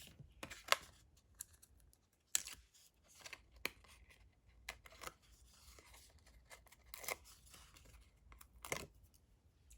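Paper strips being cut with scissors: scattered crisp snips and rustles, quiet and close, with irregular pauses between cuts and no talking.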